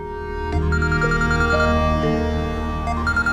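A mobile phone plays a melodic ringtone for an incoming call, a loud, sustained synthesized tune with stepped notes sounding close up with no talk over it.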